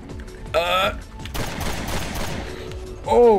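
Rapid bursts of video game gunfire crackle in Resident Evil Revelations 2 raid mode, a dense fusillade filling the middle stretch between short bursts of a nearby voice.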